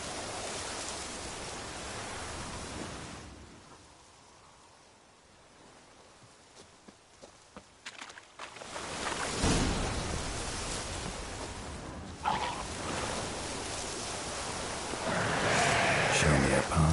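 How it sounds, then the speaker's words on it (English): Steady rain hisses through a Witcher 3 game scene, loud at first, dropping to a quieter patch, then swelling again with sharper rustles and splashes. "Looks like rain."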